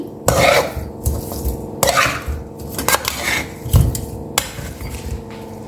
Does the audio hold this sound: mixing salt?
yes